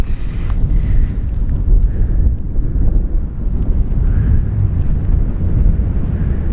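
High wind blows across an exposed mountain top, a heavy, continuous low roar and rumble buffeting the microphone, loud and close throughout with no voices.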